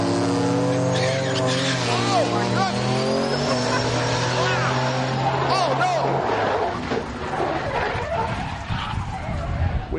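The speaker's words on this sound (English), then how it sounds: "Rich Frost gets into the wall in the O'Reilly lane and then shoots across the other side" A drag race car at Heartland Park in Topeka, Kansas skids into the wall and across the track, loud engine roar and squealing tires with a crunch of impact, while an announcer shouts excitedly over it.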